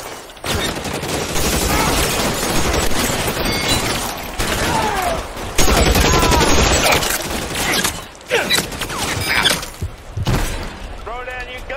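Gunfire in the video game L.A. Noire, loud repeated shots and crashing impacts during a shootout, with voices shouting over the continuous barrage.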